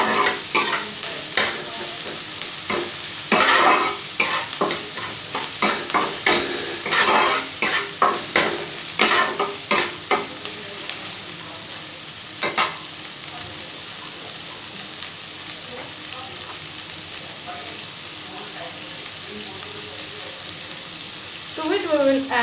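Onions frying and being stirred in a pan for oats upma, with scraping stir strokes over a steady sizzle, busy and close for the first half, then quieter frying with occasional taps.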